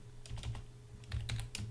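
Fingers type on a computer keyboard in a few short clusters of close, crisp key taps over a faint steady hum.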